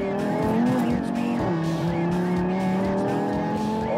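An Audi RS3 with air suspension is driven hard, its engine roaring loud and close with sustained tire squeal and skidding over the whole stretch.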